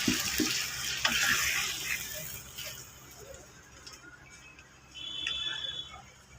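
Water poured from a pot or jug into fried spiced tomato masala for a thin rohu fish curry, a brief splashing gush up front that tapers into quieter bubbling and sizzling, close and moderately loud.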